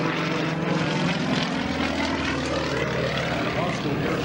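A Yak-55 aerobatic propeller plane drones steadily overhead at an airshow, a loud continuous engine roar with faint shifting pitch, while a voice talks over it.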